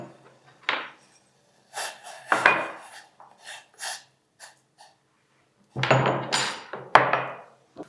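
Peppercorns crushed coarsely by hand for a diabetes-control juice, heard as a few separate bursts of gritty grinding and rasping, close and fairly quiet, with short pauses between.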